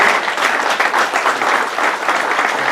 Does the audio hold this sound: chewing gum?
no